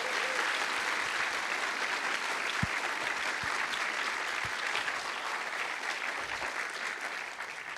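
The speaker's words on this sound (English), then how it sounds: "Can we get like an unrestricted, I won't even do the thing, an unrestricted round of applause for Jamie, George, Logan, and Juan." A conference audience at a JavaScript lightning-talks event gives sustained, dense applause that holds at an even level throughout, with a few soft thumps underneath.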